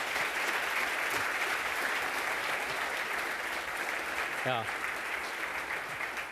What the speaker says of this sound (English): A warm applause for Matthew.